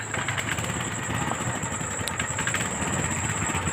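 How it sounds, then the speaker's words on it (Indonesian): A water pump's small engine, freshly serviced with a new spark plug cable fitted, runs at a steady idle throughout, a continuous loud mechanical chugging with no pauses. "sekarang Bang Adi akan mencoba menghidupkan mesin"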